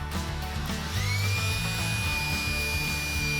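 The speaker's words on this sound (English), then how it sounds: "we're going to use this to drill a starter hole about 1 inch in from the edge" A power drill fitted with a 1/8-inch cobalt pilot bit whirs up and bores a starter hole about an inch from the edge, its high steady whine holding close and loud after a brief spin-up.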